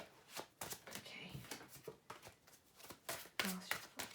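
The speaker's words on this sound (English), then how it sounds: "Last shuffle, please." Tarot cards shuffled by hand at close range, a quick run of crisp riffles and soft slaps in uneven bursts, with a voice briefly heard.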